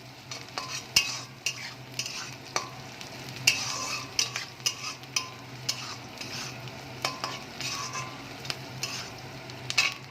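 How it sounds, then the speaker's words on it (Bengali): Potatoes frying with onions in a pan, a steady sizzle under frequent, irregular spoon scrapes and clinks against the pan, close and fairly loud throughout. "পেঁয়াজের মধ্যে আমি আলুটা একটুখানি ভালো করে একটু ভেজে নেব"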